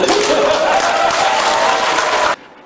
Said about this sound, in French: arrachant une salve d'applaudissements collectifs